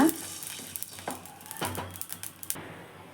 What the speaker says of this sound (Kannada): ಅರ್ಧ ಸ್ಪೂನಷ್ಟು ಮೆಂತ್ಯ. ಈಗ ಫ್ರೈ ಆಗಿದೆ.